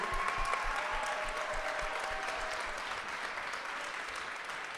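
An audience applauds a rapper from Le Havre at a round-table event, steady clapping filling the room at moderate level throughout.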